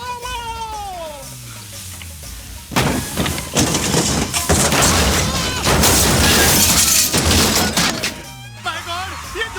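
A hut crashes onto a car in a movie scene: a burst of loud cracking, splintering and thudding debris lasting several seconds, framed by frantic voices and dramatic music before and after.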